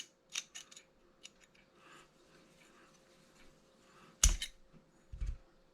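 The firing pin assembly of a Mosin Nagant M44 bolt is unscrewed with faint metallic rasps and small clicks, followed by one sharp, loud metal clack near the end and a softer knock after it.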